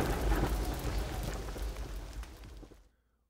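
Heavy thunder rumbles alongside steady rain in a stormy night scene, loud and dense for about three seconds before cutting off into near silence.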